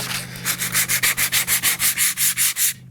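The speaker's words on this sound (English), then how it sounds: "to sand off lightly the paint that you don't want on the surface" Sandpaper in 120 and 220 grit rubbing paint off an old steel ship-building square, about fifteen quick, even back-and-forth scrapes, close and loud, then a stop.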